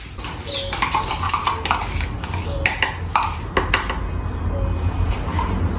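A spoon beats corn cake batter in a bowl, giving quick irregular clacks and scrapes up close, with brief voices in the background.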